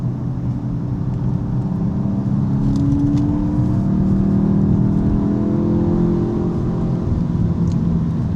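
Front-wheel-drive car cruising at 50 mph, its engine and drivetrain producing a steady droning whine with a constant road roar that holds level throughout.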